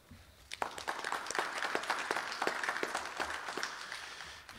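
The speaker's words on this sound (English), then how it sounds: "Let's give them a round of applause." A crowd at a candidate forum breaks into applause, a dense burst of claps that starts abruptly, holds steady and tapers off near the end.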